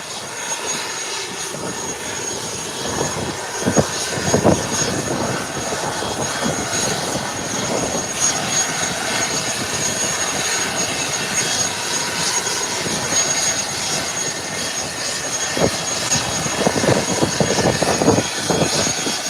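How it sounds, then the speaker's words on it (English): An ATR turboprop being pushed back at an international airport, with a continuous loud engine roar and hiss holding steady throughout, some rumbling surges along the way. "And the ATR is being pushed back."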